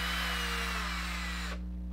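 A handheld power drill whirs steadily in the background for about a second and a half, a continuous high buzzing over a low electrical hum, then cuts off abruptly and leaves only the hum.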